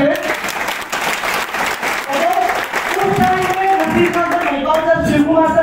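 Applause from an audience fills the clip, a dense wash of clapping with a voice heard speaking over it.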